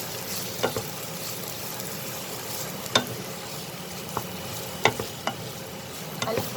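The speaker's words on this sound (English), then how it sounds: "Now I will fry it together with the onion and the green chili" Potatoes frying with onion and green chili in a pan, a constant close sizzle punctuated by sharp scraping and clinking stirs every second or so, with no talking.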